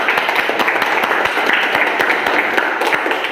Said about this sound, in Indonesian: Kalau begitu tepuk tangan untuk kelompok 1 ya.